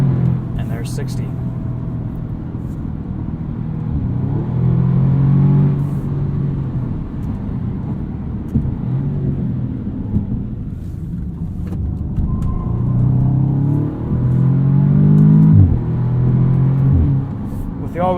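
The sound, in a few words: 2016 Audi S3 sedan accelerating hard from launch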